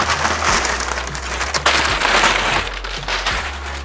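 Paper cushioning is crinkled and rustled by hand while a boxed figure is unpacked, producing a dense, close crackling with a few sharper crunches and no talking.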